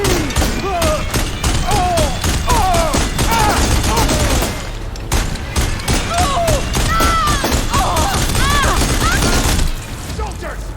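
Rapid bursts of gunfire and explosive booms fill a combat scene in the video game Horizon Forbidden West, loud and nearly continuous, with speech and sweeping game effects layered over it.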